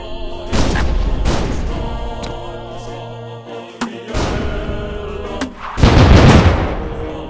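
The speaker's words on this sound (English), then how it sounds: "Stop firing your holy pigeon cannon!" A holy pigeon cannon firing in the video game Nefarious, heavy booming blasts and thuds in irregular bursts over game music, loud and up front.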